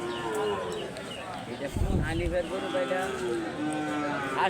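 Cattle low and moo at a busy village cattle market, a deep drawn-out call rising above a murmur of people talking nearby.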